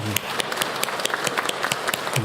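A church congregation claps during a Sunday service, a brief burst of uneven, fairly close hand claps with voices mixed in.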